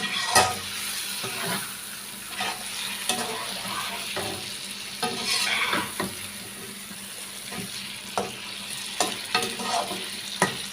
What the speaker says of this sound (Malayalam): ഇനി നമുക്കിതൊന്ന് നന്നായിട്ട് ഒന്ന് ഇളക്കി കൊടുക്കാം